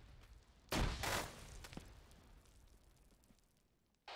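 A frag grenade goes off in an Arma 3 firefight, a single heavy blast followed by a long rumbling decay that fades over several seconds, with a second abrupt burst at the very end.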